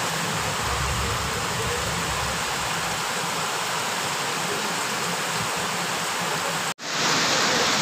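Heavy continuous rain pours down on an empty street, a dense, loud, unbroken hiss filling the whole stretch, cutting out for an instant near the end before resuming.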